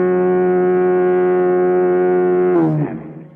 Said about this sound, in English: The lighthouse went off. It's the siren.